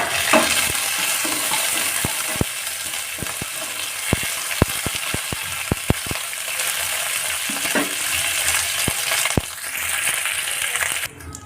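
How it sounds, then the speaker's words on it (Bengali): Black mustard seeds and curry leaves fry in hot oil for a South Indian sambar tempering, with a steady close sizzle and scattered sharp pops and crackles throughout. "এখন কারি পাতা দিয়ে দিচ্ছি।"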